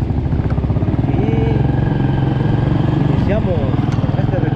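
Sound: motorcycle ride through Las Peñitas

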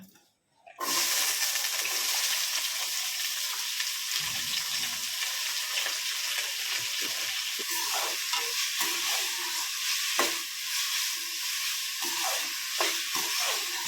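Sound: tempering (tadka) sizzling in hot oil with tomato, onion, potato

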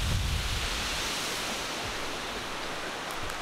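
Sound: waterfall

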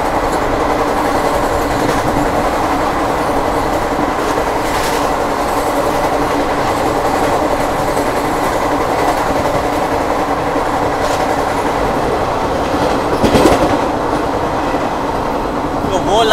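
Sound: Indian express train running on rails

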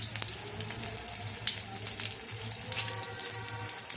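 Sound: water draining from washed mustard flowers

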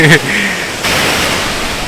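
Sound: waterfall, water falling and spraying

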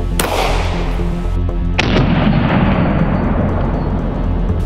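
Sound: 9 mm gunshot fired at a brass padlock

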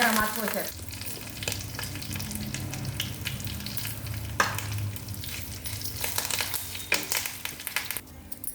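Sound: curry leaves sizzling in tempering of chilies, garlic, cumin, mustard

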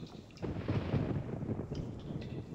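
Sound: thunder in the video game RealMyst Masterpiece Edition

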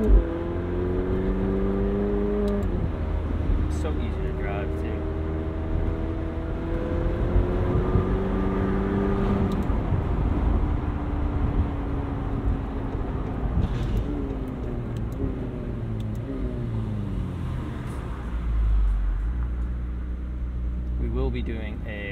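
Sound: McLaren 720S Spider engine while driving on track

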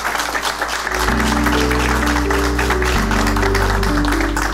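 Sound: applause

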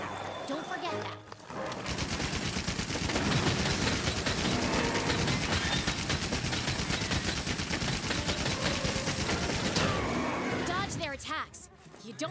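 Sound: heavy bowgun firing in Monster Hunter World video game

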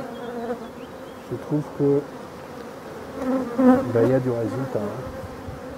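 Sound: honeybee colony buzzing during hive visit

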